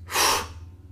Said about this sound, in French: respiration complète, je commence par le ventre, le thorax, je bloque, je contracte, j'expulse